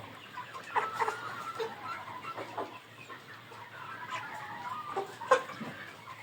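Roosters about 90 days old cluck in short, scattered bursts at moderate distance, with occasional louder squawks over a low steady background.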